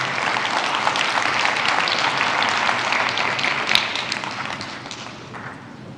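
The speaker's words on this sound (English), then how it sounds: "Can you clap for him as he comes to the stage" An audience at a gender equality certification award ceremony claps as a guest walks to the stage, a dense sustained round of applause that tapers off near the end.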